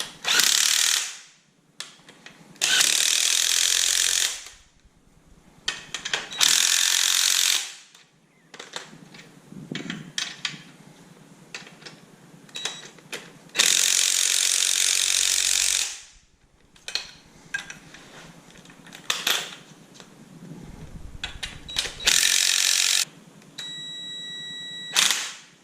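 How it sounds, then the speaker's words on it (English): Spring compressors are tightened on a supercharged Mustang during a BMR drag spring install, with repeated close bursts of rapid ratchet clicking separated by short pauses, alternating back and forth. "I'm just gonna keep alternating back and forth and tightening."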